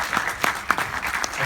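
Audience applause at a live Q&A event, scattered and moderate, with individual claps standing out.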